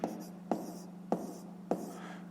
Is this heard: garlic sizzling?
no